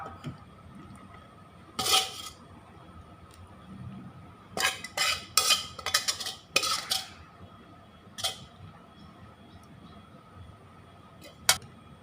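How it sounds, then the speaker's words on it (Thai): Metal utensils clink and scrape against dishes while fried garlic chicken hearts are spooned onto a plate, several sharp clusters of clatter with quiet gaps between. "แล้วตักเสิร์ฟลงบนจานนะครับ"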